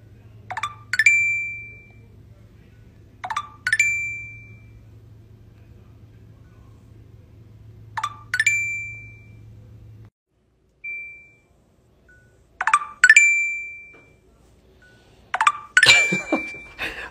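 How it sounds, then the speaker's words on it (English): Tinder app notification chimes sound again and again, short bright pings spaced a few seconds apart, with a low hum under the first several and a busier burst at the end. "Oh, I know what it is. It's the Tinder sound."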